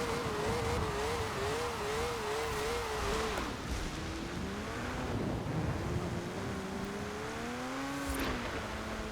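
Drift bus revving in Forza Horizon 4, a rear-wheel-drive bus losing grip: a steady engine tone wavers and climbs, dips, then rises again at a continuous, fairly loud level with wind-like noise underneath.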